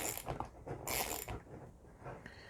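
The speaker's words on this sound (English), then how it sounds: "we can get our M7 socket set and tighten that down." A socket wrench with an M7 socket ratchets a bolt tight on a Jetson Nano smart rover kit, giving a few quick bursts of clicking with short pauses between them, close and fairly quiet.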